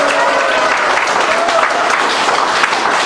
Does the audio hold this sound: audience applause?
yes